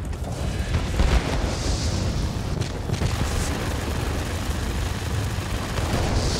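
Rockets exploding in the World of Warplanes flight combat game, a dense rumbling blast with a sharp burst near one second, then sustained roaring explosion noise and engine drone throughout, loud with no speech.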